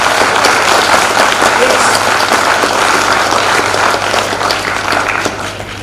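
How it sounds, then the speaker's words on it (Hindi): A hall audience claps loudly for a speaker's parents, a thick continuous wash of applause with a low steady hum beneath that eases slightly toward the end. "अगर आप अपने मदर को या फादर को लाइक करते हैं तो जोर से तालियां बजानी"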